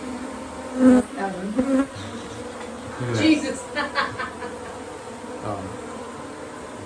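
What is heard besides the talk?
bees buzzing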